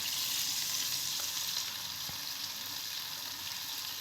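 Onion and garlic paste fries in a pan with a steady, close, even sizzle that holds alone at a constant level, broken only by a faint stir or two.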